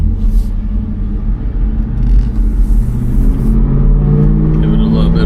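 A 2003 Mercury Marauder V8 rumbles from inside the cabin, its engine note swelling as the throttle is blipped, a steady low drone that stays loud throughout.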